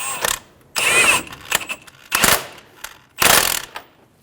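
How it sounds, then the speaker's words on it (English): Ratchet wrench snugging the middle bolt of a transmission mount on a 2000–2007 Ford Focus 2.0L four-cylinder, heard as several close, loud bursts of metallic clicking separated by short pauses. "Snug the middle bolt down."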